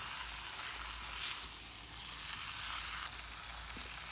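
Chicken pieces coated in masala stirred in a hot pan for a chicken curry, a steady close sizzle and frying hiss running throughout with faint scraping of the spoon, no voices.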